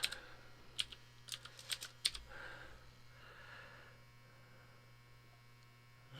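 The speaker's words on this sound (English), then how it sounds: "I don't know why I'm having a problem typing right today." Fingers typing on a computer keyboard in uneven bursts of crisp clicks, close and clear, then fading into a steady electrical hum that carries on alone.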